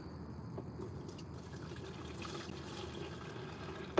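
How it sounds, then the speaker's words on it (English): Water runs steadily from a tap into a container being rinsed out, a continuous low splashing rush that stays fairly faint throughout, with a small clunk right at the end. "Put some water in here"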